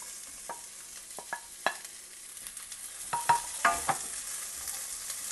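Bell pepper and tamarind sautéing in a pan, a faint sizzle broken by several sharp clicks and scrapes of a stirring spoon, with no voices.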